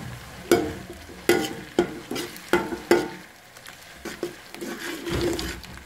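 Tomato paste sizzling in a pan with softened green chillies as meat curry cooks, with repeated sharp stirring scrapes over a steady frying hiss, close and moderately loud.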